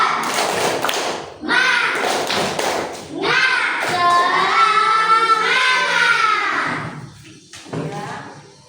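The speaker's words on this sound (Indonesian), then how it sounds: "Tepuk semangat" Children chant together in a lively group cheer, punctuated by rhythmic hand claps at the start and end.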